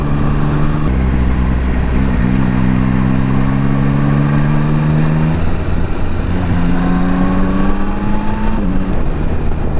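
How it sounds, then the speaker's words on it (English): A van rumbles past nearby on a rural Scottish road, its engine tone rising and falling steadily over a low, continuous drone, with no voices. "Oh, it's just a van."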